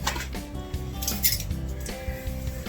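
A metal tablespoon clinks and scrapes repeatedly against a pot or container while spreading One Shot slow-release fertilizer during transplanting, close and fairly loud, with no talk.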